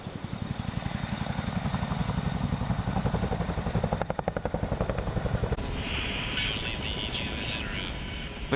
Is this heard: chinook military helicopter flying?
yes